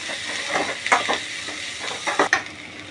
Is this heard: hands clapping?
no